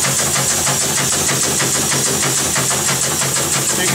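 A pump on a Semitool SST 421-280 tool runs with a steady, loud mechanical hum and rhythmic pulsing, continuous and close, with no voices.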